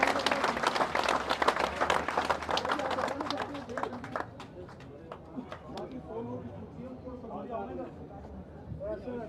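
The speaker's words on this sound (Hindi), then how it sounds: "एक बार आप लोग जोरदार ताली बजा" Loud, dense applause from a large crowd at a political party joining event in India fills the first few seconds, then thins as voices and chatter take over.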